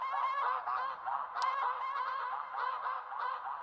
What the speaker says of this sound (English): Ducks, geese, whatever.